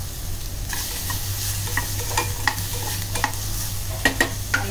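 Onion and coconut frying and being stirred in a pan for Malvani chickpea curry, a constant close sizzle broken by scattered sharp scrapes and clinks of the spoon.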